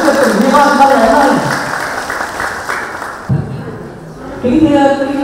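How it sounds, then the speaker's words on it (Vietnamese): An audience at an elderly association arts festival in Ninh Giang district claps in a sustained round of applause, partly under a loud amplified voice talking through it. "chúng ta hãy mở một tràng pháo tay thật lớn để cổ vũ đầu tiên cho người dẫn chương trình thi năm văn nghệ này"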